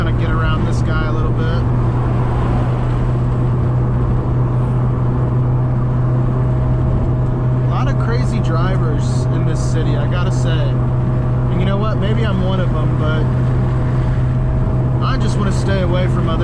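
A tuned 2015 Subaru WRX with the turbocharged FA20DIT engine and a light flywheel drones steadily from inside the cabin while driving, a loud constant low hum with brief higher bursts of noise midway.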